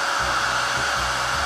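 A heat embossing dryer blows hot air over embossing powder, giving a loud, steady, close-up whooshing drone that runs unbroken from start to finish.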